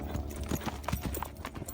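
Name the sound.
horse hooves clip-clopping while being ridden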